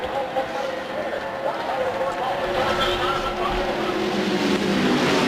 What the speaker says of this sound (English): He just blows right by him, and Spencer's going by on the outside.